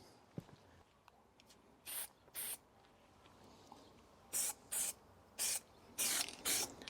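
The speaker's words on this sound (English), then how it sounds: "now we'll just give it a quick dust coat" Short bursts of spray paint hiss in a light dust coat over car brake calipers, about seven separate puffs, some doubled, close and loud against a quiet background with no talking.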